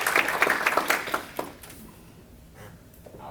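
Audience applause for a speaker at a Toronto conference panel, a burst of clapping that starts loud and quickly thins into scattered claps before fading into room quiet.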